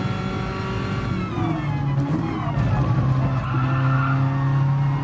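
A Red Bull formula race car in Gran Turismo Sport drones along with a steady high engine tone that rises and shifts pitch as it accelerates, with faint tire noise, close and unbroken.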